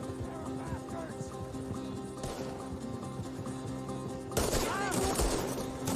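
Gunfire in a Red Dead Redemption 2 shootout: repeated sharp shots crackle over a busy game soundscape with horse hooves and faint voices, growing louder and denser toward the end.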